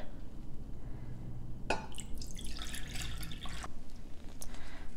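Water splashes and trickles into a measuring cup for a couple of seconds, a close, bright liquid pour over a low background hum.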